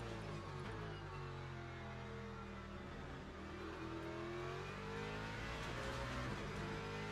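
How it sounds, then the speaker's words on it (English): Ford Mustang race car engine in the Le Mans Ultimate racing game, a steady mid-level drone with rising and falling harmonics as the revs shift, no talking. "I think LMU got the engine sound down pretty well."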